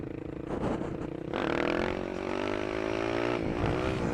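A Yamaha WR supermoto with the airbox snorkels pulled out runs close by, its engine droning and then rising in pitch as it revs and accelerates, with a rough, loud intake tone.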